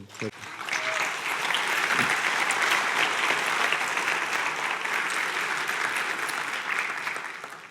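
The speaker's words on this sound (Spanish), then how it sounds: "Den un aplauso al Señor." A church congregation applauds steadily and loudly throughout, a dense wash of clapping with crowd noise underneath and no voices standing out.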